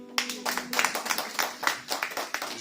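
Clapping from a church congregation welcoming a newcomer at a New Year's Eve service, a brisk, close run of uneven handclaps lasting a couple of seconds.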